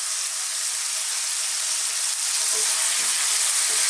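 Chicken stir fry sizzles hard in a wok over maximum heat, a dense, steady hiss with a few soft clinks near the end and no voices.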